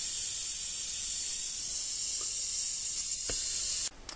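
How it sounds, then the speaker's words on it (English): Air hisses steadily out of a motorcycle tire as it is deflated for a tire change, a loud continuous spray of hiss that runs for nearly four seconds before cutting off abruptly. "I just have to let the air out so I can change the tires"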